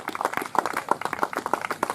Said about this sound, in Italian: Se è pronto, fate un applauso